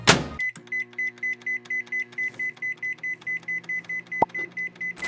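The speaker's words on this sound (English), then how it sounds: "We're gonna add our steak to the microwave." A microwave oven cooking a steak hums steadily while a bright electronic beep repeats at a quick, even rhythm, about four pulses per second, with one sharp click near the end and no talking.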